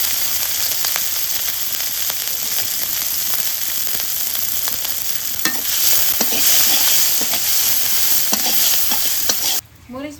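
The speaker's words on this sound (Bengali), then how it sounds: "মরিচ পেঁয়াজ ভাজা হয়ে গেছে" Green chilies and chopped onions fry in a pan over a village cooking fire, a steady close sizzle and hiss with scraping stirs running throughout, cutting off abruptly just before the end.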